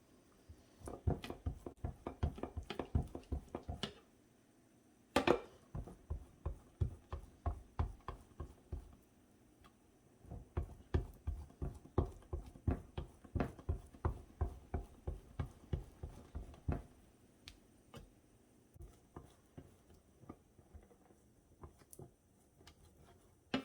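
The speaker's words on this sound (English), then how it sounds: "It is definitely weird to shred butter." Cold butter rubbed over a box grater, a steady run of crisp, close scraping strokes in bursts with short pauses between them, alone without any voice.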